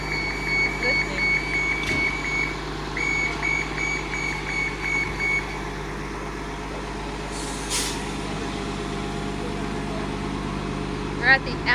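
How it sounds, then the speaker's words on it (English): A Monsters Inc. themed Disney bus stands at the Animal Kingdom Kidani Village bus stop, its engine rumbling steadily, with reversing beeps early on and a brief hiss of air brakes. "there's the Monsters Inc. bus with Mike and Sully"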